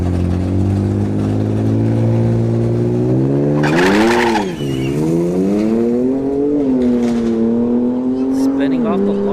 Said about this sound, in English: Spinning off the launch there for Santiago.